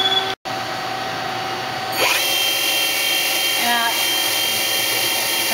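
Subspindle of a Citizen L2016 CNC Swiss lathe running, a steady high machine whine with a rising sweep partway through, close and loud, with a brief word of speech near the start.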